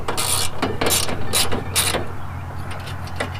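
A ratchet fitted with a 5/16 socket clicks in quick, loud bursts as it works the panel screws on a Hayward pool pump, then drops off into quieter background noise.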